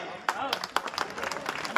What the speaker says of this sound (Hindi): आप सभी से तालियां बजती रहनी चाहिए